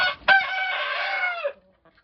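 A rooster crows once up close, a loud drawn-out call that ends abruptly, with a soft cluck at the start and faint sounds after.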